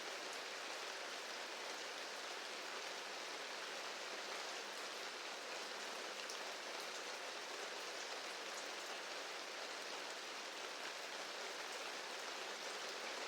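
Steady rain hisses evenly throughout, a dense wash of droplets falling on surfaces, with no voices or other distinct sounds.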